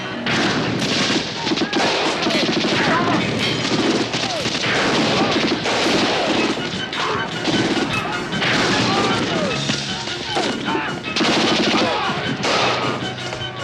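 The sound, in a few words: gunfire shootout scene from the movie Lone Wolf McQuade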